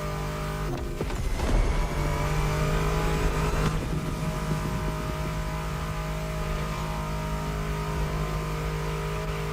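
Mustang muscle car engine in The Crew Motorfest video game, a loud steady growl with brief revving bursts near the start, continuous and close.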